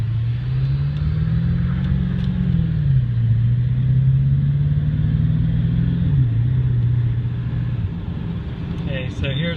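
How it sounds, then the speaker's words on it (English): Inside the cab of a 2001 Ford F250 truck with sound-damping work, the engine hum rises steadily as it accelerates, eases at a gear change, then climbs again under constant road and fan noise. "We're going to accelerate to 45 miles an hour and then to 55 miles an hour."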